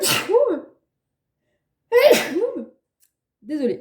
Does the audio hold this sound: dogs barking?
no